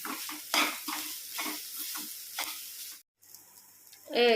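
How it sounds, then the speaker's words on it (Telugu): Grated coconut fries with salt and turmeric in a pan for a coconut toor dal curry, a soft sizzle broken by repeated scraping strokes of a spoon, then a short pause before a louder stir. "దీన్ని కొద్దిగా వేయించాలండి, స్పూన్లో పెట్టి వేయించుకోవాలండి"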